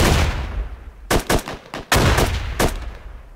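Gunfire in the military shooter Squad, loud rapid bursts of rifle shots in clusters after a rushing noisy start, close and dominant with no speech.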